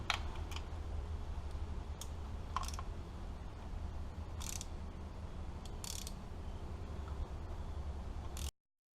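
A ratchet undoes bolts on a 12-valve diesel engine while injectors are being pulled, giving repeated quick clicking bursts at irregular intervals over a steady low engine-bay hum, close and fairly faint.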